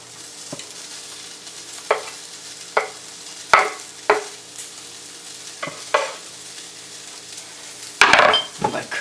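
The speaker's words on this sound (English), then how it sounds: "Now you're going to want to put the onions in." Onions stirred into a hot pan alongside frying fish, giving a steady sizzle broken by several sharp scraping stirs and clacks of a utensil, ending in a louder burst of sizzling.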